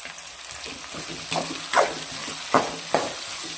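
Capsicum and green chillies frying in a pan for avarekalu upma, a steady close sizzle broken by several sharp scraping strokes as a spatula stirs them, with no talking.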